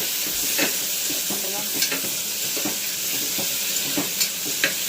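Green chillies and ginger-garlic paste sautéing in a pan for a hotel-style kurma, with a steady sizzle broken by clear spatula scrapes and taps, close and fairly loud, no talking.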